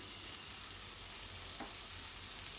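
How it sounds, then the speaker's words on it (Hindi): A large onion sliced into long strips is stirred into a pan of frying spices for an ivy gourd curry, producing a soft, even sizzle with light stirring, quiet and without speech. "अब इसमें एक बड़ा प्याज जो कि लंबे आकार में कटा है मिक्स कर देना है।"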